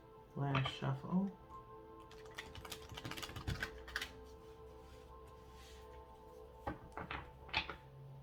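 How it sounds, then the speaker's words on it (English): Oracle cards shuffled by hand in a deck, giving soft riffling taps and brief papery flutters that come in short clusters. A voice speaks briefly near the start and the room stays quiet otherwise. "Last shuffle."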